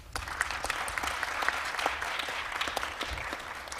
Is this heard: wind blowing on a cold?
no